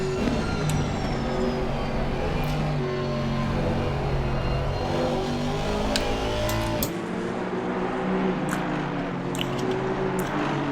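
A GT4 McLaren race car at Spa-Francorchamps drones at high revs, its engine note rising through gears with brief shifts, a continuous loud roar of closely following cars.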